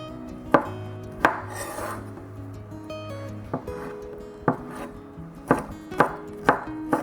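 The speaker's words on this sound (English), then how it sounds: "finely mince the garlic" Knife chopping garlic on a cutting board, about ten sharp irregular knocks spread across the stretch, fairly close and clear, with soft background hum and no talking.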